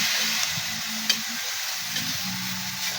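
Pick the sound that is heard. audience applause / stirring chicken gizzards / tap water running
stirring chicken gizzards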